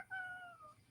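A large, roughly 20-pound tuxedo cat gives a single short meow, faint and close, with a rising then falling tone.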